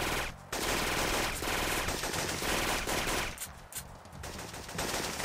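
Sustained automatic gunfire rattles in Syphon Filter 2 on a Colorado Rockies mission, loud and dense bursts with brief gaps and a thinner, quieter stretch near the end.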